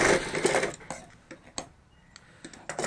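Sewing machine stitching a bag: a rapid burst of mechanical needle chatter at the start, then sparse close clicks and ticks as the fabric is shifted between stitches.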